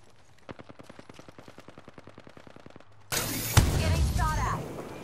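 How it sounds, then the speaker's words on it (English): Gunfire from a rival squad in the video game Apex Legends: a steady run of rapid, evenly spaced shots, then a sudden louder burst of dense, roaring firing and impacts that stays close and loud to the end. "That's another squad shooting at us."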